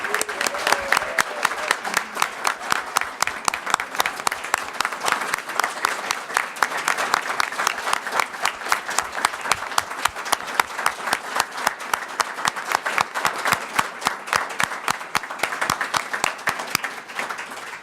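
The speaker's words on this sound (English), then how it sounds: "can we have one final round of applause for our honorees?" An audience at a recognition ceremony applauds its honorees, a long, steady stretch of many hands clapping in a dense, even rhythm, moderately loud and close, with no speech over it.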